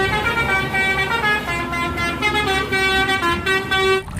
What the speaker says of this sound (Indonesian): ternyata ini bus telolet